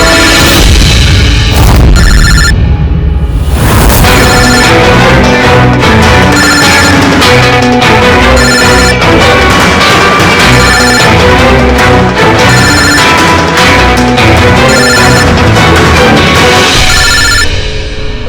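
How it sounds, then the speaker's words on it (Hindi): A telephone rings loudly and insistently in a Hindi TV crime drama scene, a repeating tone pattern layered under dramatic background music throughout. "कोई फोन क्यों नहीं उठाता? फोन उठा लो।"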